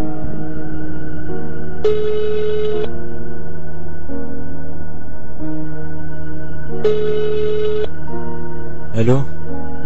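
An outgoing telephone call rings back twice, each ring a long electronic tone about a second apart from silence, loud and close over a steady background hum, followed by a short rising tone.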